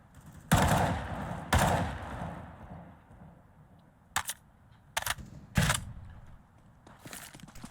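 Several bursts of gunfire in a Counter-Strike match ring out, two longer rattling volleys then a few short sharp shots, with brief quiet gaps between.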